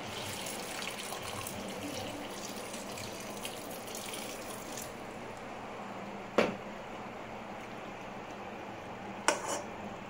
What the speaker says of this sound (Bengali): এবার একটু মাখা মাখা করে একটু গরম জল ঢেলে দেব